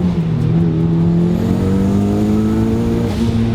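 A 400 hp big-turbo Mazda Miata, its factory engine swapped out, accelerates hard with a loud close engine note that climbs steadily in pitch and a faint turbo whistle above it, with no talking.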